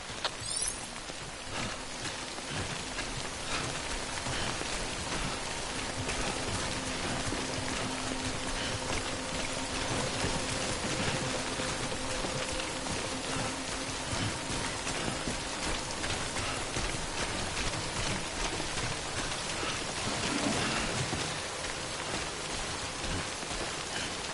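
Steady, dense rain pours in the video game Death Stranding, an even wash of drops hitting surfaces with faint low rumbles beneath, holding constant for the whole stretch without any voices.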